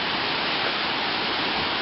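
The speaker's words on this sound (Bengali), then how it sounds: "এই যে ঝর্ণার পানি নেমে যাচ্ছে।" Water from the Khoiyachora falls runs down a stream path as a dense, even, continuous rush that fills the whole clip without a break.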